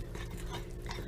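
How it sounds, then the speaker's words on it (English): Egg is worked into food in a bowl, a short burst of close, muffled stirring and scraping against a low, steady background hum. "I'm gonna mix this up because I really want to get that egg in there."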